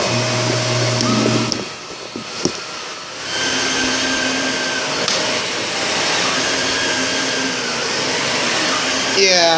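Shark Rotator vacuum cleaner running close by with a loud, steady rushing whine, briefly dipping in pitch and load before resuming its constant drone.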